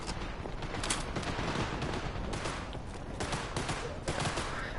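Gunfire in Cyberpunk 2077 running on a PS4, a dense steady stream of shots and impacts layered with game noise throughout, loud and close with no talking.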